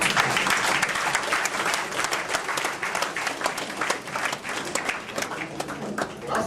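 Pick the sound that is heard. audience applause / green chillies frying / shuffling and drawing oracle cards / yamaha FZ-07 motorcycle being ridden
audience applause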